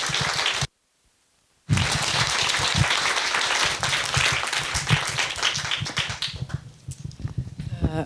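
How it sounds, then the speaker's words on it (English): An audience gives a big round of applause for panelists at a talk on rebuilding Notre-Dame, dense clapping that breaks off for a second, then resumes loud and sustained before thinning toward the end. "Please join me in giving our panelists a very big round of applause."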